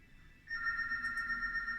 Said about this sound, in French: Je sais pas si vous entendez, le téléphone il sonne.